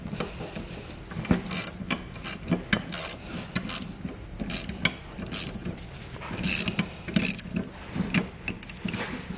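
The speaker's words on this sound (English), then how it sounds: "Now we can go ahead and tighten down our 5/16 inch hardware using a 13mm socket." A ratchet with a 13mm socket tightens 5/16 inch nuts on air helper spring brackets on a 2016 Ford truck, giving rapid, loud, close clicking bursts in irregular runs with short pauses.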